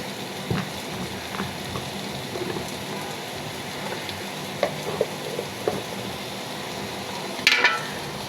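Rui fish frying in a pan with powdered spices, a steady soft sizzle like light rain with occasional faint clicks and a brighter scrape near the end, no voices.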